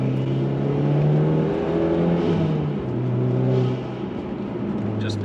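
Mitsubishi Lancer Evo X engine revving up an uphill left-hand turn, a loud climbing drone that drops briefly as it shifts into second gear, then pulls again, with a faint voice beneath.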